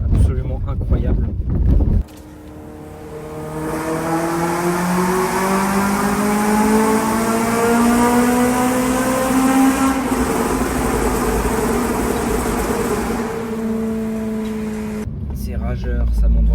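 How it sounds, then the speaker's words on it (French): Honda Civic Type R engine revving up high through the rev range, with a full exhaust line giving a loud, rising harmonic wail that climbs steadily for over ten seconds, with brief voices and wind noise at the start and end. "C'est rageur, ça monte vraiment très haut dans les tours, c'est vraiment passionnant comme moteur."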